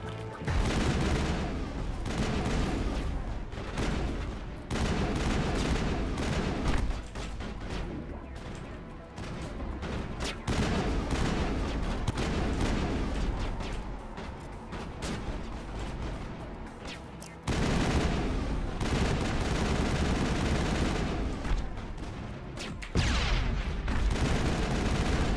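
Sustained gunfire from the Mass Effect video game, a dense, loud barrage of shots and booms that keeps up for the whole stretch with only brief dips.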